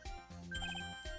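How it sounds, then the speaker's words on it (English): A video game telephone rings in repeated electronic bell trills, clear and steady at moderate volume, with no talking over it. "Telephone."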